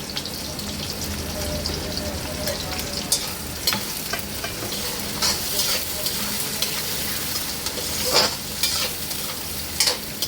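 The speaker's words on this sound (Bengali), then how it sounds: "পেঁয়াজটা বেশ খানিকক্ষণ ভেজে নিয়েছি" Onions frying with a little salt in hot oil for chicken biryani, a busy close crackling sizzle with repeated spatula scrapes and stirs throughout.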